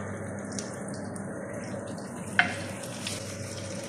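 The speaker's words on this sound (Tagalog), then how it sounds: "nag-prito na siya." Chicken sizzles and crackles steadily in a hot pan, a constant frying hiss with a small clink partway through.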